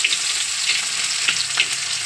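Chopped onion with bay leaf and crushed cloves frying in oil in a wok, a loud continuous sizzle with a few sharp scraping stirs, close up and without talk.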